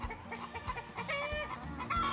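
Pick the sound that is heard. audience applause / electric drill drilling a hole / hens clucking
hens clucking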